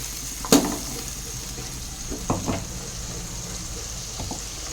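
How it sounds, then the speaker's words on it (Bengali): A masala of ginger, onion, garlic and green chili fries in a pan for ghugni, a soft steady sizzle broken by a few sharp stirring clinks and scrapes, close by with no talking. "এবার কিছুক্ষণ ভালো করে মশলাটাকে আমি কষিয়ে নেব।"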